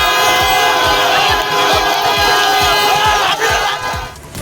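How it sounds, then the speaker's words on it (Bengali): BJP and Trinamool supporters shout slogans in a loud, dense crowd during a scuffle on Chandrakona Road, a continuous roar of many voices with rhythmic low thumps underneath. "বিজেপি তৃণমূল ধস্তাধস্তি, স্লোগান যুদ্ধ।"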